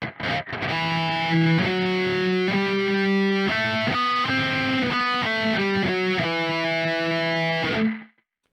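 A heavily distorted electric guitar through an aggressive Neural DSP Archetype: Gojira amp preset plays chunky sustained chords and short stabs with a harsh, aggressive amp tone, ending on a fading note.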